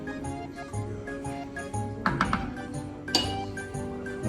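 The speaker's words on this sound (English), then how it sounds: "Stir that salt in." A spoon clinks twice against a pot while salt is stirred into a sausage sauce, two brief metallic taps over a steady tonal background hum.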